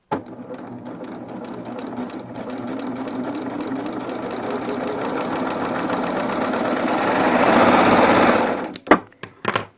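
A serger ruffles very stretchy knit fabric, running in one long continuous whirring burst that grows slightly louder near the end, then stops with a few clicks.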